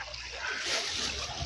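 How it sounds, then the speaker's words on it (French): Water splashing and sloshing steadily as a river is forded, a continuous broadband wash with no clear individual strokes, fairly close and moderate in level. "Parce qu'il faut traverser la rivière."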